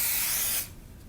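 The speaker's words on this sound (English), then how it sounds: "we're gonna spray it again to make sure the zaatar settles" A spray bottle mists challah dough topped with zaatar in one short, loud hissing burst that cuts off abruptly, leaving quiet room tone.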